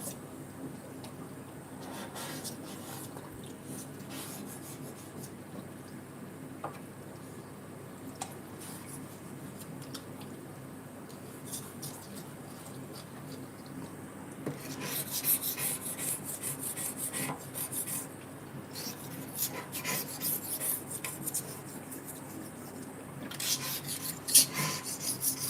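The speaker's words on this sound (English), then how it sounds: "we are nearly done with the bottom. Or at least as much as I want to do with the scrubber." A scrubber working along the bottom of a fish tank in a fishroom, a soft continuous rasping rub, quiet at first and then growing louder with bursts of harsher scraping.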